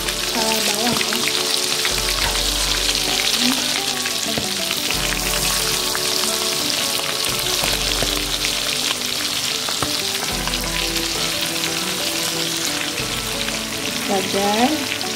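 Onions frying in a pan with steady crackling sizzle throughout, close and fairly loud, over a strong harmonic music bed, no talk.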